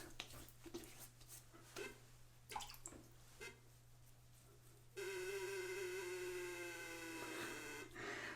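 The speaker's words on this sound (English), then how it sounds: "The sound you're hearing is my sink drain." A bathroom sink drain gurgles faintly, with scattered drips and splashes followed by a sustained warbling gurgle that swells and then settles.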